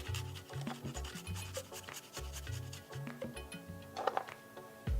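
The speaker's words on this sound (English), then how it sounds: "I'm going to use my grater and I'm just going to grate the garlic" Garlic cloves grated on a kitchen grater, giving quick repeated rasping strokes in short bursts, close and soft, with no voices.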